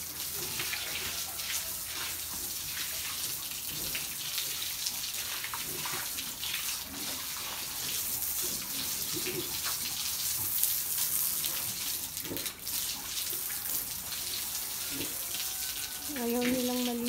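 Pigs on a provincial piggery in Nuevo Vizcaya are hosed down, a steady rush of spraying water running throughout with splashing, a few squeals near the end, and faint voices in the background.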